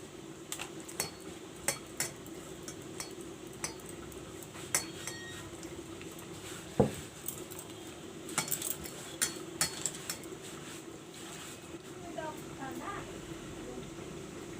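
Besan batter with salt is mixed in a bowl, with repeated light clinks and taps of a utensil against the bowl at an irregular pace over a low background hum.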